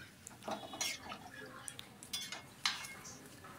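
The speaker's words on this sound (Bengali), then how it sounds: "এবারে একটা ঢাকা চাপা দিয়ে দিলাম।" A lid is set on a cooking pot of rohu fish curry, giving a few faint metallic clinks and light clatters against a quiet kitchen background.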